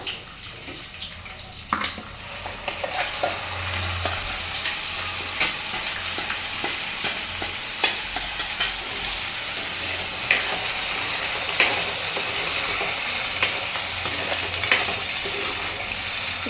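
Thick ground gravy for palak paneer butter masala fries in hot oil with a continuous sizzle and bubbling, punctuated by occasional clicks and scrapes of stirring.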